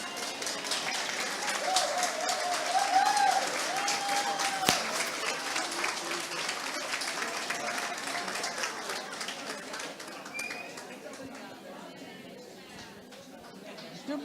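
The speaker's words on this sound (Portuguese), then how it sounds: "Palmas para a dona Elza, por favor" An audience claps for an older woman at a community gathering, a steady broad wash of applause that holds loud for several seconds before slowly thinning out, with some chatter mixed in.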